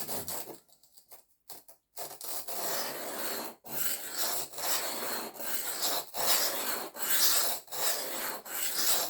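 Steady rasping strokes of a new Aurillac knife blade scraping across a brand-new sharpening stone, repeated in a fairly even rhythm with brief pauses, close and moderately loud.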